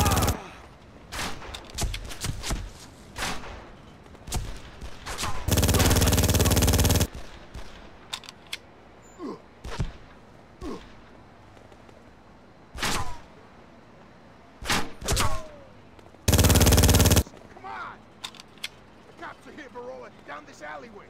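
Gunfire in the PC game Made Man: sharp single shots and longer sustained machine-gun bursts crack out between stretches of dialogue, with thuds and slams mixed in and voices talking throughout.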